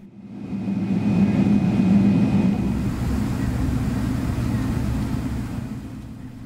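An Air Canada Boeing 777-300ER taxis toward the runway for takeoff, heard from inside the cabin as a steady low engine rumble and broad hiss that swells slightly and holds.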